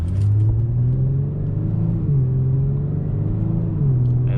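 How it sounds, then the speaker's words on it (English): A 2021 Genesis G70 with a 3.3-liter twin-turbo V6, rumbling with a steady low drone and slight pitch shifts, heard from inside the car with no talk. "that V6 sounds really good"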